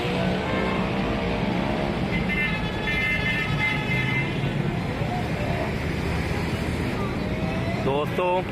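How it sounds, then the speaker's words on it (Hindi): A red metro train at a station in Pakistan passes with a continuous rumbling rail roar and tonal wheel or motor whine. Faint voices sound beneath it, and a brief squeal comes near the end. "इस वीडियो में रेड कलर की जो गाड़ी है ये मेट्रो गाड़ी है"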